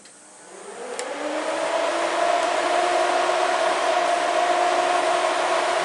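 A 1951 Ford truck with a swapped-in motor starts up and settles into a steady, loud running drone with a whining tone, rising over the first second then holding constant with no talk.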